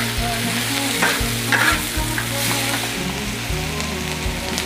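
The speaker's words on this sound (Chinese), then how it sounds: "先把腊肉炒哈，下姜蒜，干辣椒" Cured pork tossed in a hot wok with ginger, garlic and dried chili, giving a continuous close sizzle of frying oil punctuated by occasional scraping and clinking of the spatula, with no voices.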